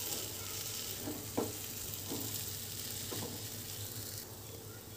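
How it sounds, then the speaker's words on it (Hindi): Halwa sizzles softly in a pan while crushed cardamom is stirred in, a faint steady frying hiss broken by a few light scraping strokes of the spoon. "अब हम इसमें डालेंगे 2 इलायची जिसे हमने कूट लिया है और इसको हम अच्छी तरीके से मिक्स कर लेते हैं।"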